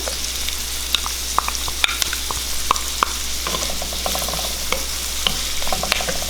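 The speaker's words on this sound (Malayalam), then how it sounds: "സവാള അപ്പം നമ്മൾ ഒരു മൂന്ന് പച്ചമുളക് ആണ് എടുത്തത് ഞാൻ ഇതിലേക്ക് ചേർക്കുകയാണ്" Onions and green chillies sautéing in a pan, a steady close sizzle broken by frequent light clicks and scrapes of a spoon stirring against the metal, with no voices.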